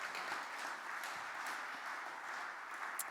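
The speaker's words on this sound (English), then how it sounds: "Give him another round of applause there." An audience applauds a musician at a live concert in the Pepper Canister church, a steady, fairly distant wash of clapping that continues evenly throughout.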